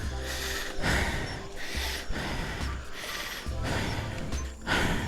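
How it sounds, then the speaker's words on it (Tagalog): Heavy, rhythmic panting breaths after pushing uphill, close and loud, rising and falling in a steady repeating pattern. "marinig yung hingal ko"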